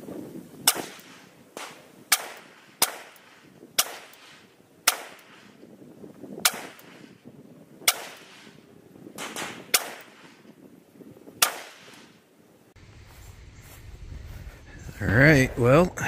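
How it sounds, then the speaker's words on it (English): A handgun fitted with a CVLIFE 1X22X33 red dot sight fires about a dozen loud, sharp shots at a 50-yard target outdoors, spaced irregularly about a second apart, followed by a short stretch of speech. "we'll take some more shots down here at that 50-yard target"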